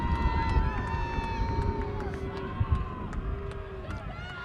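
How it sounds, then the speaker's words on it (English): Crowd and fans roar steadily at a Cal versus SMC rugby match in 2023 as play starts with a scrum, a dense continuous wash of cheering with voices over it. "you can hear that excitement from the crowd and fans of both teams"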